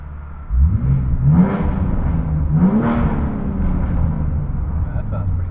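A Nissan GT-R on an airstrip gives two sharp, loud revs in quick succession, each rising and falling back, followed by a lower idle rumble.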